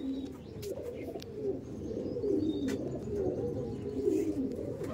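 Green Madras pigeons coo in low, rolling, continuous calls close by, with faint chirps from other birds in the background.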